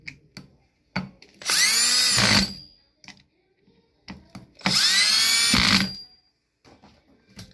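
A power drill drives screws into a Man-brand electric fan motor during a repair, two distinct whirring bursts of a couple of seconds each, separated by soft clicks and handling noises.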